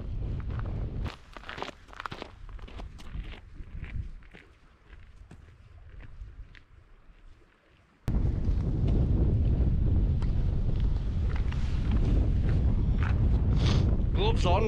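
Wind buffets the microphone on an exposed mountain walk in the Langdale Pikes, gusting irregularly under scattered footsteps and brief voices, then surging into a loud, continuous roar for the second half.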